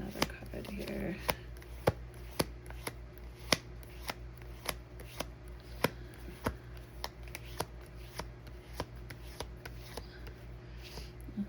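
Tarot cards shuffled by hand in a quiet room, a steady series of crisp riffling snaps and flicks at fairly regular intervals, close and clear, with no talk over them.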